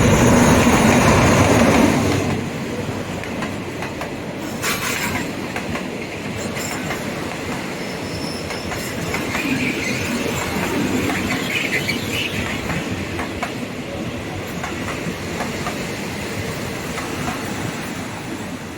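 A Thai railway train rumbles past at speed with a loud rush at first, then steady clattering wheels and rhythmic clicks on the rails, continuing without talk.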